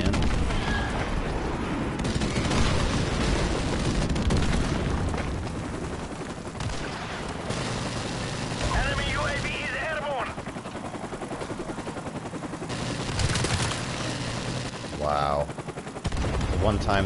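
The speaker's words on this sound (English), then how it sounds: "chopper actually decides to shoot" Helicopter gunfire in the shooter game Modern Warfare Remastered, dense bursts of automatic fire and heavy booms rolling through most of the stretch, loud and close, with a rotor-like drone beneath and brief tonal game effects.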